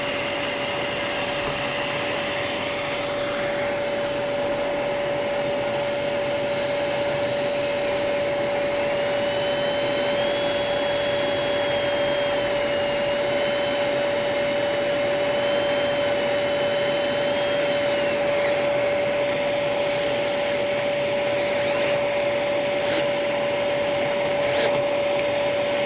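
A steady, high-pitched electric drill with a small bit whines continuously at close range while fitting a booster plug on a BMW K1200R motorcycle, constant motor tone and no talking.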